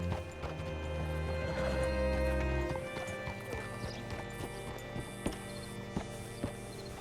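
Horse hooves clip-clop in a steady rhythm in Red Dead Redemption 2, with a horse whinnying and snorting partway through; no one speaks.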